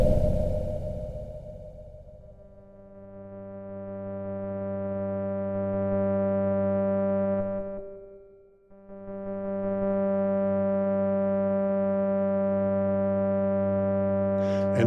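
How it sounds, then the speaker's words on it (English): An ARP 2600 synthesizer sounds a square wave from oscillator 1 as a steady buzzy tone rich in harmonics, fading in gradually, dipping briefly midway, then holding at full level. "let me fade the square wave from oscillator 1 in now"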